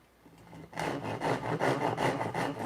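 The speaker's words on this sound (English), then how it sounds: "I want to cut this end off right here." Rhythmic back-and-forth cutting through the end of a wooden workpiece in a home workshop, steady rasping strokes starting after a brief quiet moment and continuing close and fairly loud.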